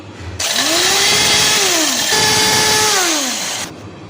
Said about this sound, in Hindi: तमाम चीज़ों को हम इसमें ग्राइंडर में डालकर इसको ग्राइंड करेंगे।